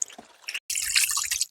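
Water poured over a pet dog being bathed to rinse off shampoo; short wet splashes and drips come in bursts, close by, with a brief silent gap between them.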